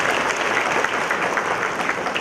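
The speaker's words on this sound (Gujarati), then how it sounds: "એમને પણ જોરદાર તાળીઓથી વધાવીએ." A crowd at a Chothani family reunion claps warmly for an honoured guest, a dense, steady round of applause holding at an even level throughout.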